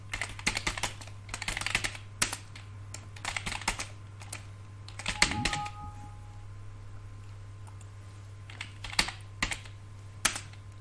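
Typing on a computer keyboard during spreadsheet entry in MS Excel, heard as irregular clusters of crisp key clicks with pauses between them, over a steady low electrical hum.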